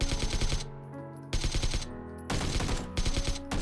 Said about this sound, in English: When talking about recoil control, there is definitely one weapon that comes first to mind: the AKM.